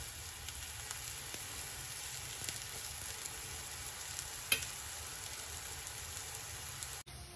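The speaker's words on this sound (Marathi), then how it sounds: "परत आपलं त्याच्यावर तूप सोडायचंय।" Ghee sizzling under bhajani thalipeeth on a hot pan, a steady close frying hiss with faint crackles running throughout, a single sharp tick near the end, no talking.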